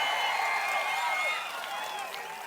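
Crowd at a Prajagalam political rally in Pedana clapping and cheering, a dense steady roar with whistles that eases slightly toward the end.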